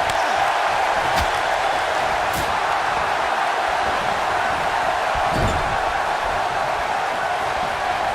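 Wrestling arena crowd in WWE 2K19 during a women's tag match, a steady loud roar of the audience filling the whole stretch with a few sharp thuds, under no clear speech.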